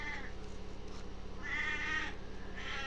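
A pet cat meows close by, two drawn-out calls with a pause between, over a steady low background hum.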